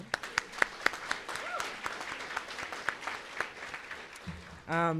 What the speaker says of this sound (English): Can we give another round of applause to Dr. Erika Abad?